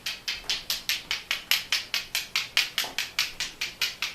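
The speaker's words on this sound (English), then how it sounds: "Another sound that you can use is you can take two stones" Two stones are knocked together in a steady, even rhythm to smudge a space, with about eighteen sharp clicks close by and no speech.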